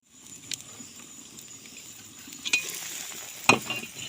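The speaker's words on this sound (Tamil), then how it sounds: "குழம்பு கொதித்து வந்திருக்கு" Fish and brinjal curry bubbles gently in a covered pot, a soft continuous simmer with faint sizzling crackle and a few sharper pops, heard up close with no talking.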